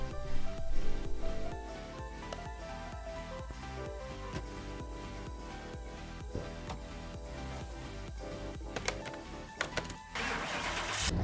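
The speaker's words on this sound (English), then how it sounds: "Their engine sounds could be a lot better" Engine noise from Car Mechanic Simulator 2021, a steady mechanical drone with repeating rhythmic pulses and clicks, starting louder and settling into an even hum throughout, with no talking.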